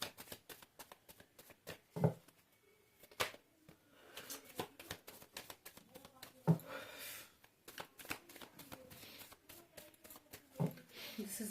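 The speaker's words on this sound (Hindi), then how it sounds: "This is my last shuffle." Tarot cards being shuffled by hand during a reading, giving soft repeated riffling and patting clicks in quick irregular bursts, close and fairly quiet, with a few sharper snaps.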